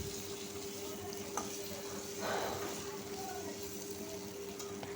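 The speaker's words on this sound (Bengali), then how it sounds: "তো এখন আমি কড়াতে তেল দিয়েছি, তারপরে আমি আলুগুলোকে ভেজে নিচ্ছি" Potatoes frying in oil in a kadai, a steady moderate sizzle heard close with a steady hum beneath and a brief louder burst of bubbling midway.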